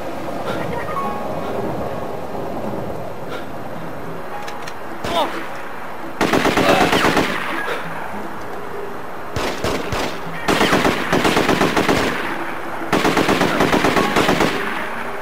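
Gunfire from The Getaway, a PlayStation 2 game: repeated loud bursts of rapid automatic fire, each lasting about a second, separated by quieter stretches of game ambience, with speech nearby.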